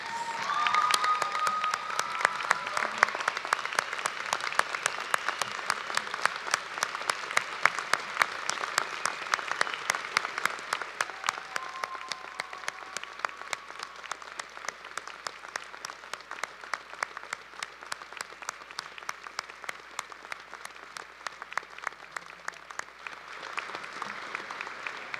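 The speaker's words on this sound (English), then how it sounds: "give the people who have supported you throughout all of this a huge round of applause" Graduates at a university convocation ceremony applaud the people who supported them, a long, dense round of clapping from a large crowd in a hall, steady and moderately loud with a slight fade near the end.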